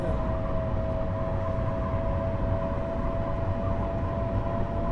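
A train in the Train Sim World 3 video game runs steadily, a continuous low rumble of wheels and carriage noise with a sustained tonal hum, close and unbroken throughout, with no talking.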